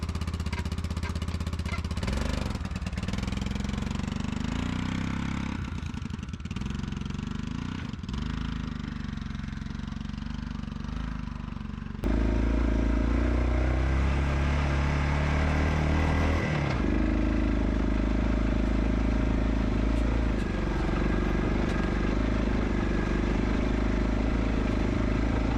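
A 1986 Honda Fourtrax ATV engine running after a jump start, a steady close rumbling idle that changes character partway through and grows louder and rougher for the rest of the clip.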